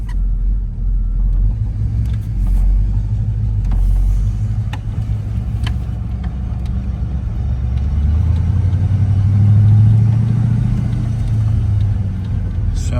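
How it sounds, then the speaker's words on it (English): Heard from inside a 1990 Ford Mustang SSP Fox body while it drives, with rear brakes dragging, a steady low engine and road rumble that swells gently as it moves along, with small clicks and rattles. "Sounds like it's got a little brake drag going on, coming from the rears."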